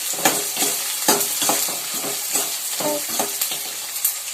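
Green chillies and onions frying in oil in a pan, a constant sizzle broken by repeated scraping strokes of stirring, close up and without voices.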